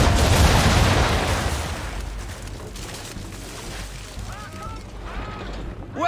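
Ship cannons fire round shot in Assassin's Creed III Remastered on PC, a loud broadside boom that rolls off into a long decaying rumble, with faint creaking, seabird-like calls and voices further back.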